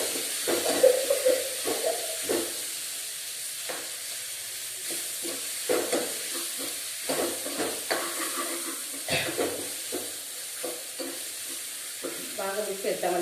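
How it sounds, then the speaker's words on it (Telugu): Boiled, smashed potatoes stirred and frying in a pan: a steady close sizzle under repeated scraping strokes of a spoon, with a faint voice now and then. "బాగా మిక్స్ చేద్దామండి. పొటాటో కొంచెం ఫ్రై అవనిద్దాం."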